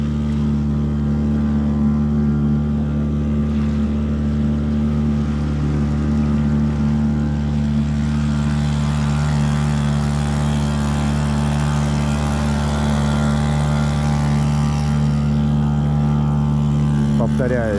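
Gladiator 350 outboard motor pushing a Raketa RL-380 boat upstream against the current on a river, a steady loud engine drone with strong low harmonics held throughout, with a voice speaking over it.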